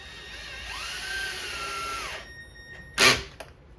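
A power tool whirs as it drives a socket on a valve cover bolt of a 2001–2005 Honda Civic, a steady whine lasting about two seconds that rises and then falls away, followed by a short sharp clack. No one speaks.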